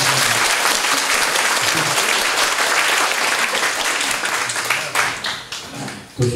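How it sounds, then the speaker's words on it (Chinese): Sustained applause from an audience at a Taiwanese medical-history lecture for an advanced administrative class, dense and loud throughout before thinning into scattered claps near the end and swelling briefly again. "咱用一个掌声来给咱台面书"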